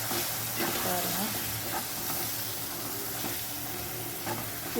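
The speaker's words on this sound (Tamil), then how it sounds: "மசாலா தூள் எல்லாத்தையும் போடுவோம்" Masala powder sizzles and fries in a pan for garlic kuzhambu while a spoon stirs it, giving a steady close crackling hiss with repeated scraping strokes.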